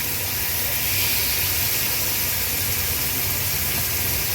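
A continuous, loud, broadband sizzle of uncoated fish pieces frying in hot oil in a pan over medium flame, steady throughout with no talk.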